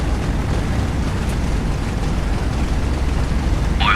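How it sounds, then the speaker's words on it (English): A four-engine B-17 bomber's number four engine cranking and starting in a flight simulator, a steady low rumbling drone that stays loud and constant with no talking. "Engine 4 starting."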